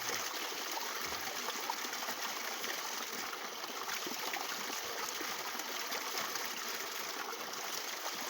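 Spring water from a village fountain in Baldher flows in a steady, close stream, a continuous trickling and gushing that runs on alone without pause.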